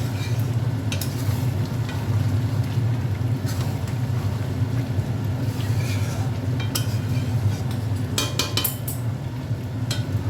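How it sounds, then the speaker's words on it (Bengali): Mutton pieces are browned in a pan in their own released juices while being stirred, a steady close sizzle and low rumble with scattered metallic spoon clinks. "মাংসটা কষা হচ্ছে, এখনো নুন দিয়ে রাখবে, এমনি জল বেরিয়েছে তাতেই সেদ্ধ হচ্ছে।"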